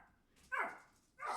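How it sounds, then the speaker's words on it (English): Dog barking indoors somewhere nearby, two sharp barks with a short pause between them. "Sorry about the barking."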